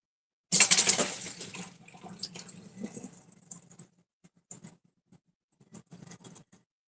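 Water splashes and patters over homemade butter as it is rinsed, loud and close at first, then fading into scattered drips and soft squelches with gaps of near silence.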